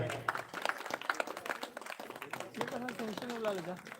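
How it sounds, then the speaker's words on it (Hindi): Audience applause breaks out for the Shri Ram Krishna women's Manas group of Bhedra village at a two-day Manas singing festival in Arjuni village, Balod district; dense clapping runs throughout, with a voice and tuneful vocal sounds rising over it in the latter half. "आइए जोरदार हम ताली बजाएंगे।"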